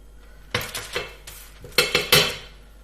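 No-bake chocolate peanut butter oatmeal cookie mixture scooped a spoonful at a time, giving several close clinks and scrapes of a spoon against a pot and sheet in short bursts, with no talking.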